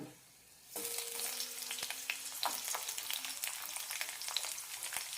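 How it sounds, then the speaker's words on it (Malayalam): Cinnamon, cloves, cardamom and garlic cloves hit a teaspoon of hot oil. After a brief quiet moment a sudden crackling sizzle erupts and continues with small pops and light stirring sounds. "ഒരു ടീസ്പൂൺ എണ്ണ ഒഴിച്ചിട്ടുണ്ട് ഇതിലേക്ക് പട്ട ഗ്രാമ്പ് ഏലക്ക ഇടാം ഇതിലേക്ക് നാല് വെളുത്തുള്ളി അല്ലി ഇടാം"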